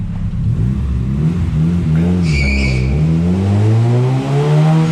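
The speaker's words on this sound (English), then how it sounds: "I love how every time I shift it spins the tire." A budget-build car revs hard and loud up close, the engine note climbing and dropping through gear shifts, with a brief squeal of the tire spinning as it shifts.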